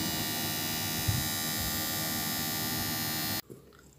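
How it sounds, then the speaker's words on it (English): A 12 V DC brushless fan running close by with a steady, even electric hum for over three seconds, then cutting off abruptly. "this is 12 volts DC brushless fan."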